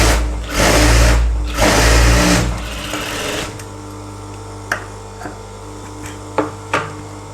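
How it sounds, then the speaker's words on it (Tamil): Sewing machine stitching an LKG elastic trouser runs in two loud, steady bursts close by, then stops, followed by a low hum and a few light clicks and taps of fabric handling; nobody speaks. "இந்த கரைப்பாகத்து பீஸ் மேலே ஒரு தையல் போட்டு வந்துடலாம்."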